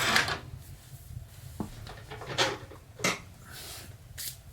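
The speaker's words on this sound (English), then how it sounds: "So now I can close the door a little bit." A sawdust-brick stove's metal door is swung partly shut, giving a few soft knocks and scrapes against a low steady fire rumble, close by with no talk.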